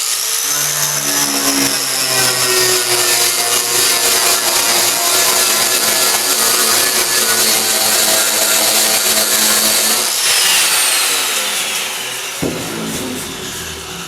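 A power tool spins a rubber buffing disc against sheet metal to shrink it during metal bumping, a loud steady whirring grind with shifting tones that continues for most of the clip before tapering off near the end.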